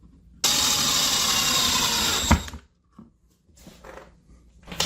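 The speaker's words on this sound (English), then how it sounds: "I will take a 1/2-inch long sheet metal screw and put this cover on" A powered driver sinks a half-inch sheet metal screw to fasten a cover, a steady close whine lasting about two seconds and ending in a sharp thunk, then quieter handling clatter.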